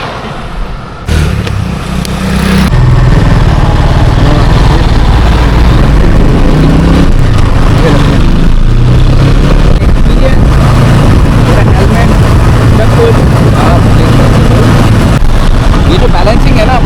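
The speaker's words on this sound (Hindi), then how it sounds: "तो चालू करते हैं बाइक को एंड चलते हैं थोड़ा सा आगे।" A Suzuki V-Strom 250 motorcycle fires up close by, then settles into a loud, steady engine drone as it rides off, with wind buffeting and a rider talking over it.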